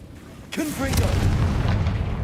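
A Confringo fire spell in Hogwarts Legacy bursts with a sudden booming blast that rumbles on briefly. A shouted voice overlaps the start of the blast.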